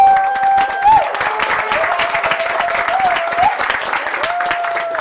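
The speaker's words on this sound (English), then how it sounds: "give us a round of applause for" Steady applause from a crowd fills the stretch, a dense wash of clapping with a few tonal sounds drifting over it.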